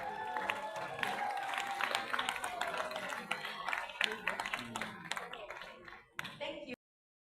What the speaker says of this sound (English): can you stand up so we can give an applause to you?